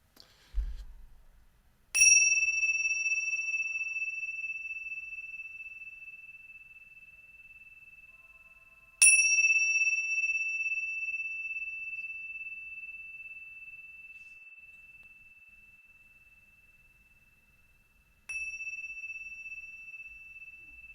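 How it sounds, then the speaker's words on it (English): Three clear chime strikes ring out at a closing ceremony, spaced several seconds apart, each leaving a long, pure tone that fades slowly in a quiet room. "Shall I ring some chimes just to mark the conclusion?"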